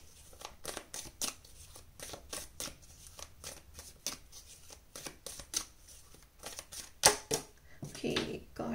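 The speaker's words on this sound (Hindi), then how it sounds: "ओके, कार्ड नीचे गिरा है, एक सेकेंड।" Tarot cards being shuffled by hand during a reading, a rapid run of soft riffling flicks and slaps, with a sharper clatter near the end as a card drops loose, close and fairly quiet.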